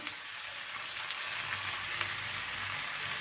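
Radish sizzles in a pan while being cooked down for chutney, a steady, fairly quiet frying hiss with faint crackles throughout and no voices.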